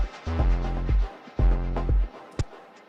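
A kick drum with its high end rolled off, from a dub techno track: two deep, booming, sustained hits about a second apart, with a short click after them and no voices.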